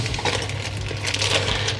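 Pre-chopped garlic, about 150 grams, is tipped into a pan for pizzaiola sauce, giving a steady clattering, rattling scrape of pieces hitting the metal at close range with no talk.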